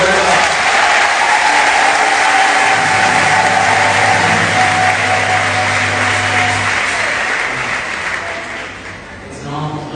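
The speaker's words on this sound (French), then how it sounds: "On va applaudir Monseigneur" A crowd gathered at a church homily applauds Monseigneur Dominique Bonin with loud, sustained clapping that fades slightly toward the end.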